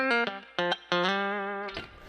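A clean Fender Player Stratocaster through a Fender Blues Junior tube amp plays a few short plucked notes, then one long ringing note that fades with light amp reverb.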